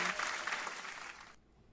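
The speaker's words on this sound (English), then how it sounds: "Let me give you some applause." A quiet applause sound effect of dense, steady crowd clapping that cuts off abruptly near the end, with no voices.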